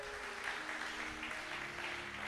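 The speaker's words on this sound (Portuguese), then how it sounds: "Quem pode aplaudir o Senhor?" A church congregation claps for the Lord, a continuous, faint spread of many hands applauding at a distance, with a low sustained tone and soft voices in the background.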